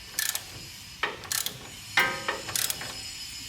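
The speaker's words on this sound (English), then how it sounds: "I will be holding that long bolt steady. I don't want that moving. And I will be turning the nut." A wrench ratchets a nut tight on a long bolt holding the upper control arm of a 1998 Toyota Tacoma 4WD, several short clicking bursts close up with pauses between them.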